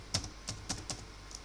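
Quick keystrokes on a computer keyboard, about five sharp clicks in an uneven rhythm, heard close and alone in a quiet room while text is typed into a file.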